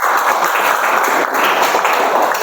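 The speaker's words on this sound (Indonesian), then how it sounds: "beri tepuk tangan ya bagi temannya ya" Classmates in a classroom applaud a fellow student, a dense, steady patter of many hands clapping that holds at an even level for the whole stretch, with no single clap standing out.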